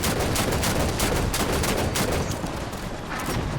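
Dense, continuous gunfire from a DMR rifle and other weapons in a Halo 5: Guardians Warzone match, rapid overlapping shots filling the mix at a steady loud level with no pauses.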